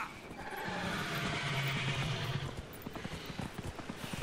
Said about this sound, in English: Now, I suppose this is the right moment for a horse.